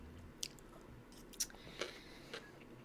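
Salad greens being munched close up, a few crisp crunchy bites spaced through a quiet room-tone background.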